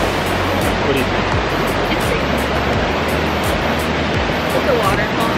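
A waterfall at the end of a two-mile hike in Colorado gives a continuous, loud broadband rush of falling water. It stays steady and fills the whole clip, with no talking over it.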